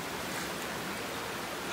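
Steady broadband rush of river water flowing around feet being washed in a river in Mariveles, Bataan, Philippines, continuous and close, with no voices.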